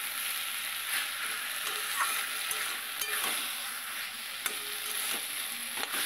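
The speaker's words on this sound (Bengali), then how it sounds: "এবারে এটাকে দিয়ে ভালো করে নেড়ে নিতে হবে।" Shapla (water lily) patties frying in a pan, with a constant loud sizzle and occasional soft stirring scrapes and clicks, heard up close with no voices.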